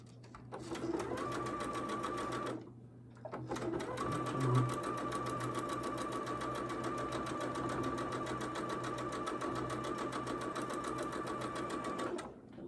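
A sewing machine stitching quilt block seams for a sampler block runs in two steady bursts with a brief pause between, its fast even whir close and loud.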